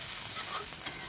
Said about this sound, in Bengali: এখন পাট শাক ভাজা বসাবো